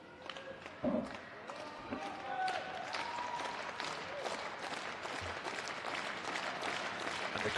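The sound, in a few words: wrestling arena crowd applauding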